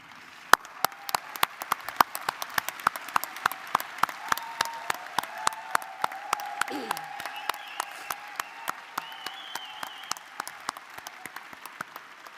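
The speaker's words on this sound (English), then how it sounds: "Lottie Shackelford and the Women's Caucus invites all veterans to stand as we applaud you." An audience applauds veterans standing at a Women's Caucus event, a steady patter of many hands clapping at moderate distance throughout, with a faint voice and some whistle-like tones underneath.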